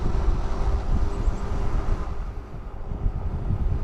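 Steady, loud wind rushes and buffets against the microphone while riding an e-bike at modest speed in winter, with a low rumble that dips briefly before building again.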